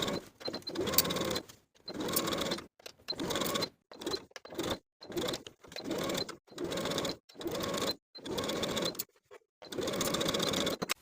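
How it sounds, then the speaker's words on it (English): Close, steady bursts from a sewing machine setting sleeves into a garment at a half-inch seam, about eight runs of stitching separated by short pauses. "we'll sew both of the sleeves in place slowly and carefully"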